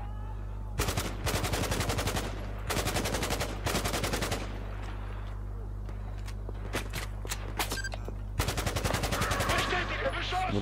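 Bursts of automatic gunfire in the Battlefield 4 campaign, several rapid volleys separated by short pauses, over a steady low hum and occasional footsteps.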